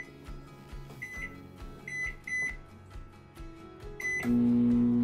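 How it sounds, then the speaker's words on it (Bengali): A 900-watt microwave oven is set to five minutes on high power for onions and tomatoes, giving a series of short bright button beeps before its steady running hum starts. "আমার মাইক্রোওয়েভ ওভেনটা হচ্ছে 900 ওয়াটের, তো আমি মাইক্রো মোডে হাই পাওয়ারে দিলাম 5 মিনিট"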